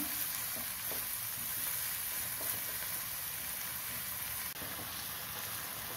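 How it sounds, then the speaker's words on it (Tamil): Chopped tomato sautéing in a hot pan gives a steady, even sizzle with faint crackles, close by and continuous throughout, with no voices. "ஒரு தக்காளி கட் பண்ணி வச்சுருக்கேன், அதையும் சேர்த்துக்கலாம். அதுவும் வதங்கட்டும்."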